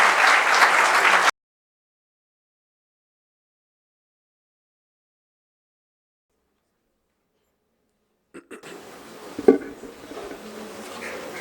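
An audience at a keynote address gives a loud burst of applause welcoming the speaker. The clapping cuts off after about a second, leaving silence, and then faint room noise with a single sharp knock.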